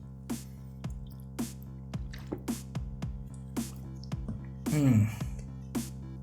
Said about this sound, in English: so I'm going to take another sip.